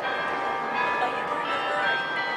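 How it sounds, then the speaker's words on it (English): Church bells ring in Victoria, a brief, moderately distant sustained metallic tone with overlapping strikes against a background of town ambience. "You can hear the church bells."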